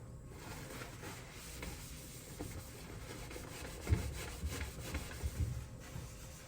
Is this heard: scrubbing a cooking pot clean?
yes